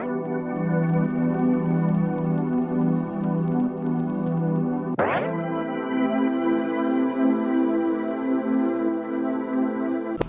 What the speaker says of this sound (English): I then put some isotope vinyl to add some crackle, some dust, and some warp to it.